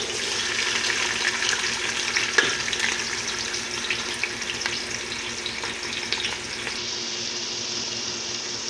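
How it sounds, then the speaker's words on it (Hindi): Onions hit hot oil for chicken biryani, giving a steady, close crackling sizzle with faint stirring clinks throughout and no voices. "ऑयल हमारा गर्म हो गया है। अब हम इसमें शामिल करेंगे प्याज।"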